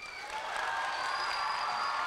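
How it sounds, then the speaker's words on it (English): Steady applause from an audience at a school gym event for the Boston Celtics boss, a dense continuous patter of clapping building slightly and holding for about two seconds, with a faint murmur of voices underneath. "So we're going to give him a big round of applause"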